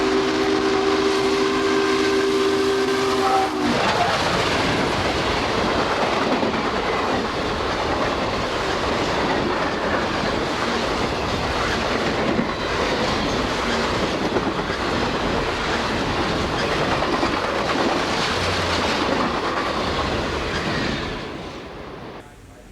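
Union Pacific steam locomotive 844 hauls a string of passenger cars past at close range, a loud, continuous roar and rumble of wheels and steam with a sustained whistle blast in the opening seconds, fading slightly at the end.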